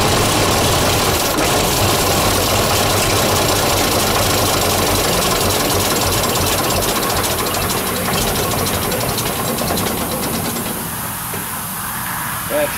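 An old six-cylinder diesel tractor engine idles loud and close, a steady rough rumble with knocking vibration that eases slightly near the end.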